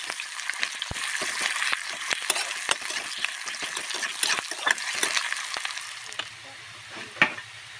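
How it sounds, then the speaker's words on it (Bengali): Chopped onions frying in hot oil in a wok, a steady close sizzle broken by frequent sharp crackles and spatters, with a low rumble near the end. "দিয়ে দিলাম পেঁয়াজ কুচি"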